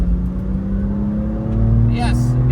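AC Schnitzer BMW M2 engine droning steadily on a lap of the Nurburgring, a sustained in-car hum with rising pitch toward the end as the throttle builds, a voice talking over it.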